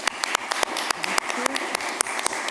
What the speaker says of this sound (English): can I invite you to a final applause for the speakers